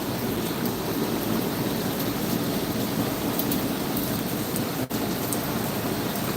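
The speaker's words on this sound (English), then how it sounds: "It's still raining a little, not as harsh as before." Light rain falls steadily outside in a garden, a constant soft hiss of drops with no voices.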